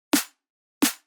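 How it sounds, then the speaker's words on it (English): A dry drum and bass snare without effects cracks twice, about 0.7 seconds apart, each hit bright and snappy with a short decay, alone in silence. "Snare without effect sounds like this."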